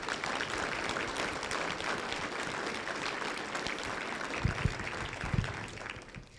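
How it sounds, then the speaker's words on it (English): An audience at a collegiate discussion meet finals applauds the competitors, dense continuous clapping from a room full of people with a few louder close claps near the end. "Let's give these competitors a round of applause."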